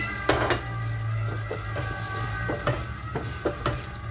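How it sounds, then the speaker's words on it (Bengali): Prawns frying in a pan with turmeric, spices and garlic, a close steady sizzle with scattered clinks and scrapes of a spoon stirring against the metal, no talking. "হলুদ মশলা রসুন দিয়ে দিলাম এখানে কাঁচা দিয়ে দিলাম আর সাথে চিংড়ি মাছ"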